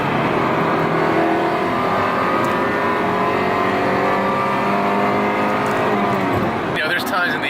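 A small 1.8-liter four-cylinder engine in an Acura Integra hums with a steady, layered drone while a voice talks over it for most of the stretch. The tone shifts abruptly near the end.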